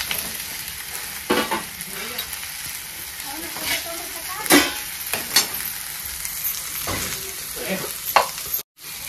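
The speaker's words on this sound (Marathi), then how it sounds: "जे बटाटे मी साल काढून घेतले ते बटाटे आता ह्यात टाकून घेणार आहे।" Peeled potatoes tipped into a hot frying pan for a dry Marathi-style potato bhaji, giving a steady sizzle with intermittent stirring scrapes and clatters, close and fairly loud, with no talking.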